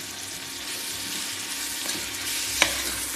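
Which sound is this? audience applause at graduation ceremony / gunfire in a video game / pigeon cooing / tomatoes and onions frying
tomatoes and onions frying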